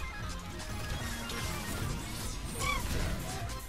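An ice-shattering ultimate ability in Overwatch 2 bursts with a loud crash and breaking impact amid a constant busy wash of game effects. A faint, high whistling tone rises near the end.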